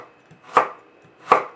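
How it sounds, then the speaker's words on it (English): A knife chopping through turnip on a cutting board, two crisp, close strikes spaced under a second apart with no voices. "the methodical process of chopping it up is quite cathartic."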